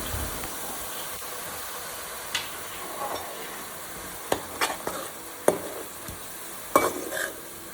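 Onion and poppy seed paste fries in a pan for a fish curry, a soft continuous sizzle broken by scattered spatula scrapes and taps that grow busier toward the end, no voices.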